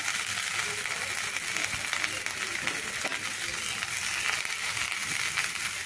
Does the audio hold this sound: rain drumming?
no